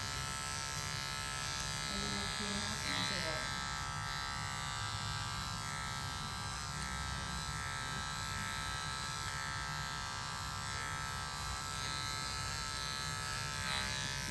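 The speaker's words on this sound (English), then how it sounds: "my M-Pro machine is doing a good job with removing the bulk and creating that foundation for me" An M-Pro electric hair clipper buzzes steadily and close up as it cuts through hair. The drone holds continuous for the whole stretch, with faint variations as the blade moves.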